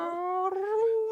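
A dog gives one drawn-out, high, tonal whine that rises slightly and steadies, like a near howl, heard up close and alone just before it barks.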